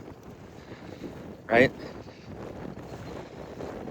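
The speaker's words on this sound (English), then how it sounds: "It's a little windy out" Wind buffets a microphone outdoors with a steady low rumble, while a voice speaks briefly over it.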